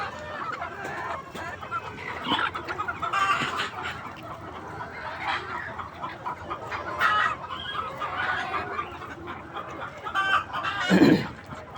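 Farm chickens peck at mango and jackfruit scraps, clucking in scattered bursts nearby, with an occasional louder squawk and a rooster crowing in the distance, while someone talks over them.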